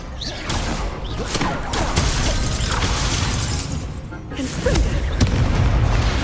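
Incendio fire spell cast during a duel in Hogwarts Legacy on Xbox Series X: loud whooshing fiery bursts, crackles and booming impacts follow one another in quick succession, with game sound effects filling the scene.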